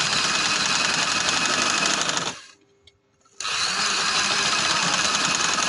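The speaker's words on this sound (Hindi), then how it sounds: "अब ये किनारे किनारे के ऊपर सिलाई लगेगी मेरी" An electric sewing machine runs steadily while stitching lace along the edge of a full-sleeve garment, a loud, close, continuous whirring hum that stops briefly for about a second before resuming.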